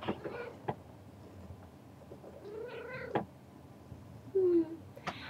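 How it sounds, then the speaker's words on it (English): A pet cat meows a few times indoors, close to the mic, with short harmonic calls spread across the clip and one brief louder cry near the end, each standing clear above quiet room noise. "This is my cat, Katara. She wants to say hi to you"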